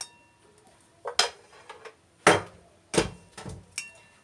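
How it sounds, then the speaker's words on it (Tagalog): A spoon scrapes and knocks against a bowl while mashed potato croquette mixture is mixed, a handful of sharp clinks and taps coming in uneven bursts, close and clear with no talking. "And then mix it."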